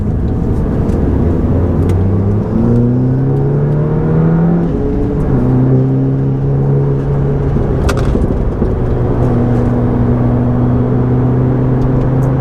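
A Volkswagen Golf Clubsport S laps the Nürburgring GP circuit on race day, its engine droning loud and close as it revs up through the gears and shifts repeatedly, with no talking.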